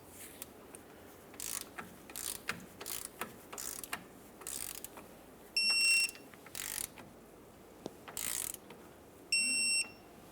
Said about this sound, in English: Once they're snug, torque them to 22 foot-pounds.